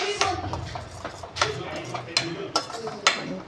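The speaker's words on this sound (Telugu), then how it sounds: "ఆయిల్లోకి ఆనియన్, టమాటో పేస్ట్ వేసుకున్నాం కదా, కలుపుకోవాలి." Onion and tomato paste stirred in oil in a pan, a spoon scraping and clinking against the metal in a few irregular strokes, close up, with a faint sizzle underneath and a voice talking.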